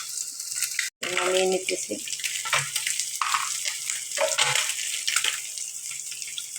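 Fish frying in oil in a wok, a steady broadband sizzle running throughout with a brief dropout near the start; a person speaks briefly over it.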